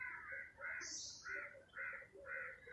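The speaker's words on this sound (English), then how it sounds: "Lots of birds chirping." Outdoors in Goa, a crow caws repeatedly in an even rhythm, five or so harsh calls at a distance with a faint higher bird note between, quiet overall.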